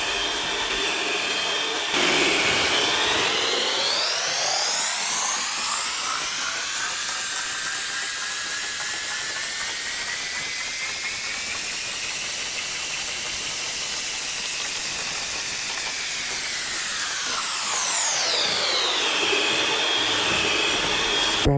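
An electric mixer beats butter cake batter in a bowl, a loud continuous whir whose pitch climbs as it speeds up, holds steady, then falls as it slows, with no talk.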